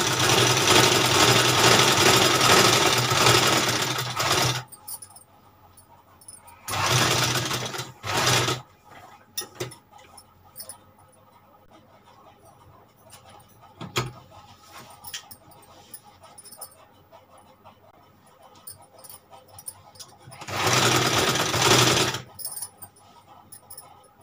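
An electric sewing machine stitching stiff buckram runs in loud, steady bursts of whirring, with a long run at the start, a shorter burst in the middle and another near the end, separated by quiet pauses and small handling clicks.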